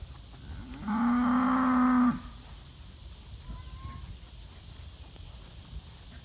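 A single cow near a broken fence on a farm lets out one loud, close moo that lasts about a second, followed by quiet outdoor background with faint movement.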